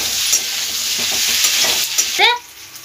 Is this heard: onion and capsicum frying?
yes